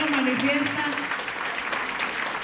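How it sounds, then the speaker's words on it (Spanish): An audience stands and applauds a little girl after her poem recital, producing a continuous wash of clapping that lasts the whole moment, mixed with voices. "poniéndose de pie y aplaudiendo a esta pequeñita"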